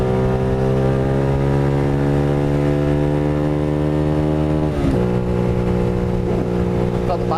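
A Honda CBR 125R motorcycle engine while riding, a loud steady drone held at one pitch, then dipping briefly and settling again as the rider changes speed.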